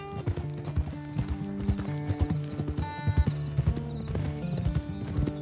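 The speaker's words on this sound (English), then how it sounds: "Get that horse in line, Arthur." Steady clip-clop of horse hooves at a trot, with occasional whinnies, set against a musical background, in the video game Red Dead Redemption 2.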